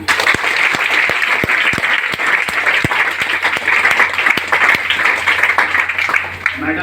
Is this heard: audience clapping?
yes